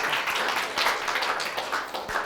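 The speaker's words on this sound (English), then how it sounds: "Round of applause to Julie" An audience at a masterclass session claps steadily for a few seconds, a dense, even patter of many hands heard at moderate distance.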